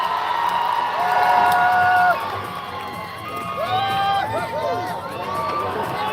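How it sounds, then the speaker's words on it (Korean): A live crowd greets the K-pop girl group Oh My Girl with loud cheering, high-pitched whoops and shouting that swells and dips over several seconds. "수많은 히트곡의 주인공 오마이걸입니다. 큰 박수 부탁드립니다."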